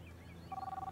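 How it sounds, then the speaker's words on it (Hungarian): Electronic telephone ringing in the Kebab Chefs restaurant simulator video game, a steady two-tone ring that starts midway and pulses repeatedly over a faint low background. "De a kurva telefon még mindig csörög."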